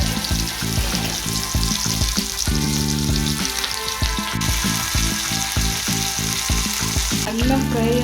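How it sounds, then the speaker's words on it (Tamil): Prawns frying in a pan, a loud steady sizzle close by with periodic stirring scrapes and clatter running throughout. "ப்ரான் ஃப்ரை பண்ண. அடுத்தது ப்ரான் ஃப்ரை."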